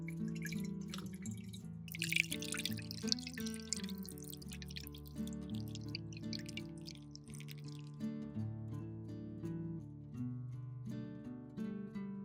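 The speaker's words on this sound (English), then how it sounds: "use a sieve to filter the water" Fermented tomato water drips and patters in quick, irregular drops through a sieve, with soft background music underneath; the dripping fades out partway through.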